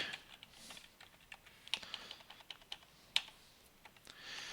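Keys on a computer keyboard clatter in quick, uneven bursts of light clicks during a math lesson on graphing rational functions, soft and close with no talking.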